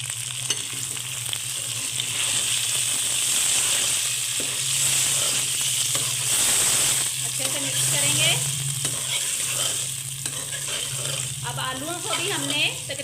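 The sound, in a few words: potatoes frying in a pan for aloo gravy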